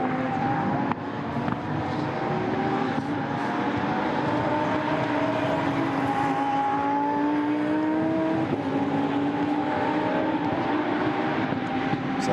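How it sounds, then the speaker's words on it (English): Lamborghini Super Trofeo race cars at the Nürburgring accelerating as a field, a steady roar of several engines with rising and overlapping tones, continuous and moderately loud throughout. "The field accelerates once more up through the arena."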